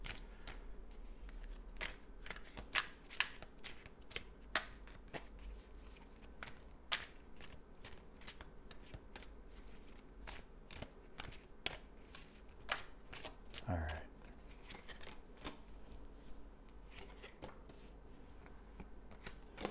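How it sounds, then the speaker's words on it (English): Soft repeated riffling and tapping of tarot cards being shuffled, irregular bursts continuing throughout at close range, with one brief bump partway through. "I'm going to shuffle a few more times and pull them"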